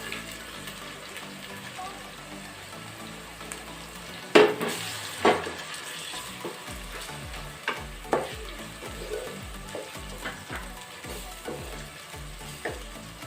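Onions frying in a pan for jackfruit biryani while ginger paste, chili powder and biryani masala go in, a steady sizzle broken by a series of sharp stirring scrapes and clatters.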